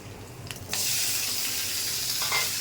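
Tomato added to hot oil with lightly fried onion for rohu fish curry: a short quiet stretch, then a sudden loud sizzle that holds steady and close, with faint stirring.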